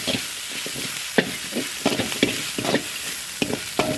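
Mint and curry leaves sauté in a pan for tomato chutney, giving a continuous sizzle broken by repeated sharp scrapes and clinks of stirring, close and clear with no talking.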